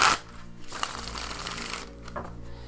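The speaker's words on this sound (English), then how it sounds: "Oh, listen to that shuffle." A tarot deck shuffled up close: a sharp riffle, then a sustained fluttering rush of cards ending in a quick snap, with a short second flutter.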